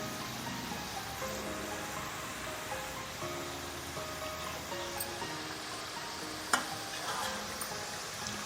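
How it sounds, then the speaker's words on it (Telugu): Kajjikayalu deep frying one by one in hot oil over a medium flame, a steady close sizzle running throughout with a faint clink partway through. "మీడియం ఫ్లేమ్లో డీప్ ఫ్రై చేసుకోవాలి స్లోగా ఒక్కొక్కటి ఇలా ఫ్లిప్ చేసుకుంటూ ఉండాలి"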